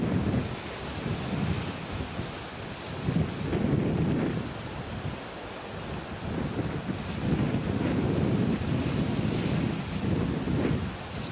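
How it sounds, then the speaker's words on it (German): Sea surf rolls in beside a seaside hotel in Brunei, a broad continuous wash of waves with rising and falling swells, mixed with gusty wind buffeting the microphone and no voices. "Es liegt direkt am Meer."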